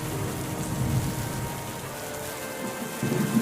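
Heavy rain pours steadily, with a low rumbling like distant thunder beneath it, continuous and fairly loud with no voices.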